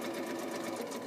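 Sewing machine stitching straight across fabric in a brief, steady run of fast rapid needle clatter, close and continuous.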